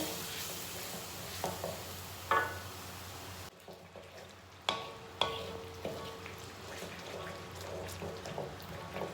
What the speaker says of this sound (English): I'll add in the yogurt. If you don't want to use it, you can always omit it. And give it a good stir.